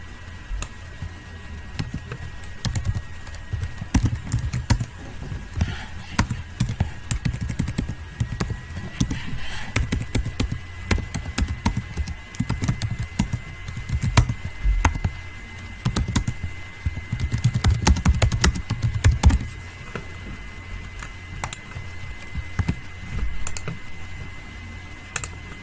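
Python code is typed on a computer keyboard in a steady, continuous patter of close key presses, with no talking.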